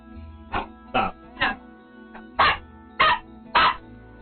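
A dog indoors barks six times in an uneven rhythm, loud, close bursts spaced about half a second apart, with a brief pause between the third and fourth.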